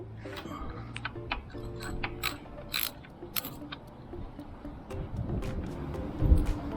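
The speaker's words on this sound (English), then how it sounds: "Remove the rear bolt." A ratchet wrench backs out the rear crash bar mounting bolt on a 2023 Triumph Tiger 900 GT Pro motorcycle, giving bursts of close ticking clicks with brief pauses and light metallic handling between strokes.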